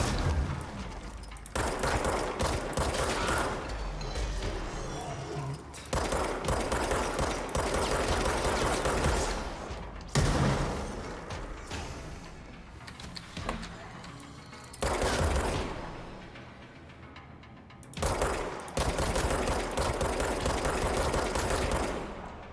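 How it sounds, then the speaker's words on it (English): Gunfire blasts in the video game Control, long stretches of loud rapid automatic shots in sustained bursts separated by brief pauses, with a voice faintly underneath at times. "As long as I keep shooting, they can't shoot back."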